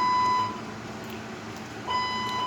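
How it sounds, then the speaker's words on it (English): A home fire alarm going off falsely, with one long electronic beep, a pause of over a second, then another beeping, steady and fairly loud over a quiet hum. "So now we have to listen to the alarm sirens"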